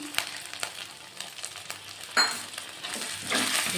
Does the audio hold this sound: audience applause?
no